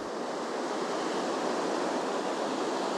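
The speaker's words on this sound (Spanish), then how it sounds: "Escuchad el sonido de este océano," Ocean waves wash continuously in a dense, steady roar of surf, loud and close, with no talking.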